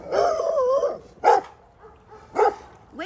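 Dogs bark near a canal: a drawn-out whining yelp followed by two sharp, separate barks, close and fairly loud with quiet gaps between.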